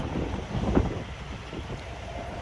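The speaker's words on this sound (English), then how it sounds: "It's too windy out here, too cold, too drizzly" Strong, cold, drizzly wind gusting outside a truck, buffeting the microphone in a rough, fluctuating rush with low rumble beneath.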